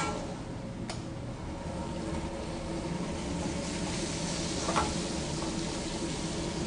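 Red onions, mushrooms and garlic cook in a pan with a soft, steady sizzle, fairly quiet, with no voices heard.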